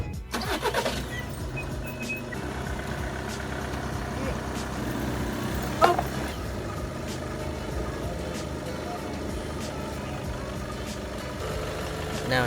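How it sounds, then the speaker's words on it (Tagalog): Audi A3 8V engine idling to warm up before an oil change, a steady close rumble running throughout with a brief clank midway. "Then pinapainit lang konti yung makina para yung oil mabilis bumaba."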